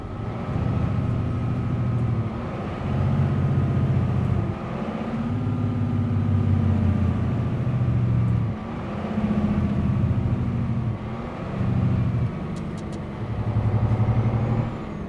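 In Euro Truck Simulator 2, a truck slows on a French road with retarder and engine brake alone, its engine droning in long, steady rising and falling stretches with brief shifts between them, close and alone.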